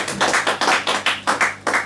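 A church congregation claps in praise of the Lord, a steady run of about eight loud rhythmic bursts of many hands together, close and filling the room.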